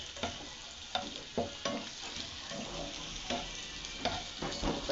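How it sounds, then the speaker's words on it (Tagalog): Scrambled eggs with onion frying in a pan, a steady soft sizzle broken by repeated scraping and clacking strokes of a utensil stirring, close up and quiet. "luto tayo ng itlog. Scramble egg. Walang kamatis kaya sibuyas na lang."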